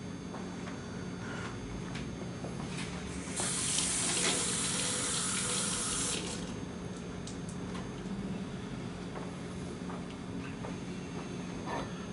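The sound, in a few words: water running from a sink faucet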